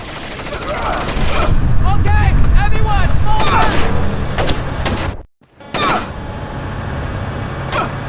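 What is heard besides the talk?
gunfire in the video game Splinter Cell: Chaos Theory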